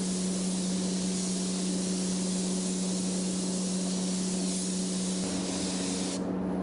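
Spray gun laying down realistic flame artwork, one steady, loud, close hiss held for several seconds before it cuts off near the end.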